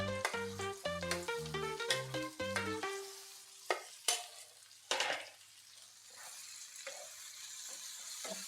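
Ginger garlic paste sizzles with already fried onions in a pan, a soft steady crackle after a few sharp clinks at the start, with no voices.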